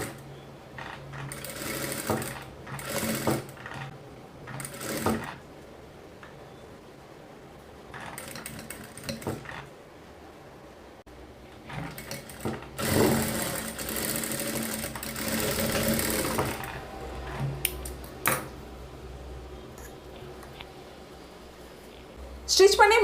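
A sewing machine runs in short bursts, stitching cloth a quarter inch from the edge, fast rattling runs separated by pauses, with a longer stretch of stitching midway; a voice speaks between runs.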